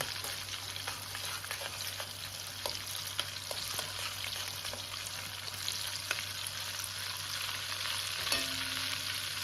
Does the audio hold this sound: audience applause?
no